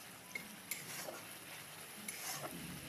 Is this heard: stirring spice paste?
yes